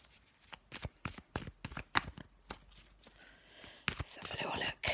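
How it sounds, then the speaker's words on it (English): A deck of tarot cards is shuffled in quick riffling bursts, close and crisp, with soft rustling between, ending in a longer flurry of shuffling. "I'm going to give that a bit of a shuffle."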